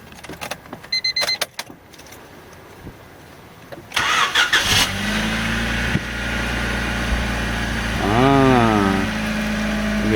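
A Honda Civic engine cranks and catches after some clicks and rattles, settles into a steady idle, then revs up and falls back once, close and loud.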